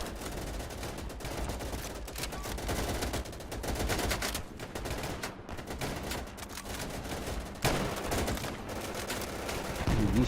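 Gunfire in the World War II shooter Easy Red 2, dense rapid rifle and machine-gun bursts crackling continuously at near and middle distance, busy battle din throughout with no clear speech.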